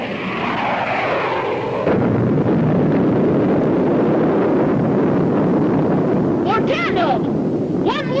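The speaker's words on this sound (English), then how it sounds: "Missile units commence firing by twos" A rumbling, roaring missile launch effect from an old space adventure radio show, a sustained wind-like blast that swells and holds, with brief chirpy electronic bleeps near the end.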